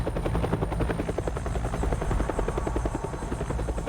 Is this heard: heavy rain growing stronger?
no